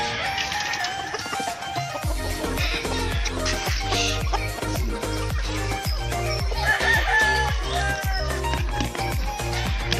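Farm chickens kept by a breeder crow and cluck nearby, a rooster's call ringing out over busy clucking, with a rhythmic tapping running through and a voice briefly heard.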